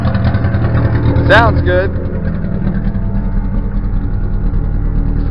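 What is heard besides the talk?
car engine running and idling after repair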